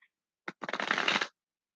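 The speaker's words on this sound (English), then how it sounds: "I'm going to shuffle these 2 more times" Tarot cards being shuffled close by: a short single riffle, one brief flick followed by a dense fluttering burst lasting under a second, then silence, with no speech.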